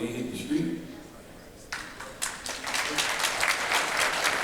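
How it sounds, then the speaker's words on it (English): At a men's breakfast meeting, a voice speaks briefly before a big round of audience applause swells up and carries on, dense and loud to the end. "Let's give my brother another thunderous round of applause, man."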